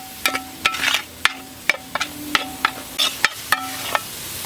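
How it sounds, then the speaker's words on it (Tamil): Masala frying in oil for a goat trotter, head and tripe curry, with a spoon scraping and stirring it around the pan in a steady series of sharp clicks over a faint sizzle. "மசாலா பாருங்கள் சூப்பராக எண்ணெயில் ஃப்ரை ஆயிடுச்சு"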